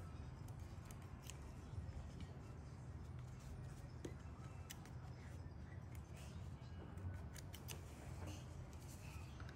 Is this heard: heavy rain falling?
no